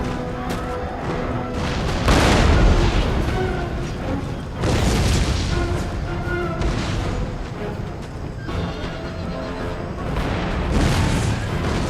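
Cannon artillery fire booms through a battle in the strategy game Empire: Total War, with heavy repeated blasts over a dense, continuous roar of combat noise.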